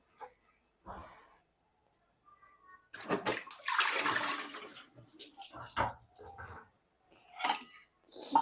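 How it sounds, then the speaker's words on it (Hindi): Water is poured from a container in a home kitchen, a splashing gush with clinks and handling noises between quieter gaps. "तो मैं पानी निकाल लेती हूँ।"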